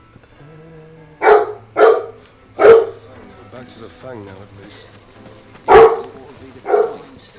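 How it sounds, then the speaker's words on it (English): A dog barks five times in Final Fantasy XVI, loud, close and evenly spaced, with a voice speaking between barks over a quiet game background. "God damn that dog."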